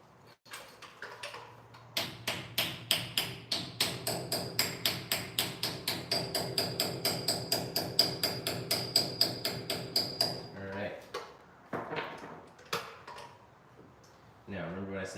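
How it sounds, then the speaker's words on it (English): A hammer taps a brake hub dust cap back into place on a 2002 Ford E350 front wheel, striking in a rapid, even run of sharp metallic knocks up close, then a few slower separate taps. "Now we take our cap. We're going to tap it back on."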